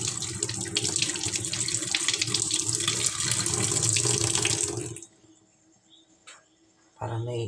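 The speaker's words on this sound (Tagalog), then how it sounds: "Ngayon naman tubig." Water running from a tap during an Epson L3210 printer purge unit repair, a loud steady rush that cuts off abruptly, followed by brief quiet knocks and handling noise.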